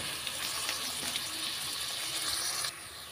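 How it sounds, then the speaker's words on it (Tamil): Water pours in a steady, gentle stream into a cooking pan with chilli powder and mutton masala for a few seconds, then cuts off abruptly, leaving a quieter background. "இப்போ கொஞ்சமாக தண்ணி சேர்த்துக்கலாம்."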